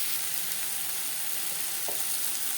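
Onions and tomatoes sizzle in refined oil in a pan, making a dense, steady hiss with a faint crackle, all close and unbroken, with no talking.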